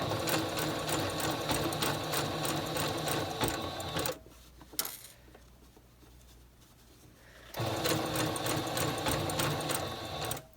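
A sewing machine runs a blind hem stitch in two loud, steady whirring bursts, stopping in the middle for a few seconds of quiet handling before starting again.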